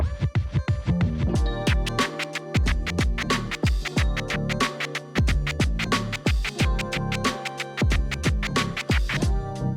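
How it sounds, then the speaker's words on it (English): Rhythmic turntable scratching over a steady beat, with quick repeated chirp-like sweeps, loud and close throughout, no talking. "a normal chirp scratch would sound like this."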